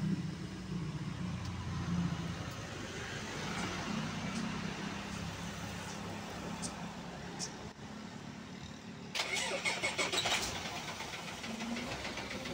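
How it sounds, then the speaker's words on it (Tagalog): A wing van truck engine runs at a steady, low idle, a continuous close rumble with a brief louder clattering burst partway through. "Yun, umandar na yung makina natin."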